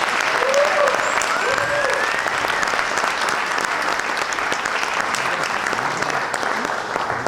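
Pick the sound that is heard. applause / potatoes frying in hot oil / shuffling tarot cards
applause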